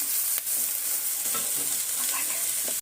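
Onions and chili sauté in a pan with a loud, dense hiss of sizzling oil and occasional soft stirring scrapes, close and steady with a sudden cut at the end.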